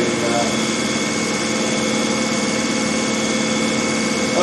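Small DC motor running on battery power, a steady continuous whirring hum with an airy fan-like breeze, even and unbroken at moderate loudness.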